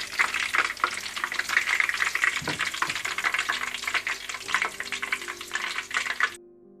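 Chicken charga deep-frying in oil makes a dense, close bubbling sizzle with occasional clatter and a louder splash of movement midway, ending abruptly in quiet.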